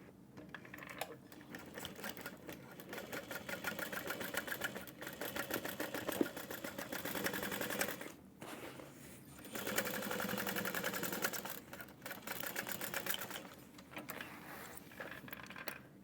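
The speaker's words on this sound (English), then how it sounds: "I might try to sew this from end to end now." A sewing machine runs in long continuous bursts while stitching a handbag panel from end to end, its rapid needle chatter close and steady, pausing briefly twice, with no talking.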